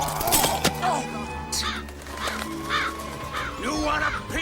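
A crow caws over and over, loud and harsh, mixed with shouting voices and a sharp whack.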